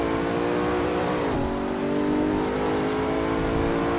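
A Bentley GT race car in a racing video game holds a steady high engine note, briefly dipping in pitch as it shifts or lifts mid-run before climbing again, loud and close with no talk.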